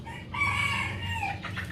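A rooster crows in a long drawn-out call, loud and close, with chickens clucking around it on a farm raising chickens from day-old chicks to adults.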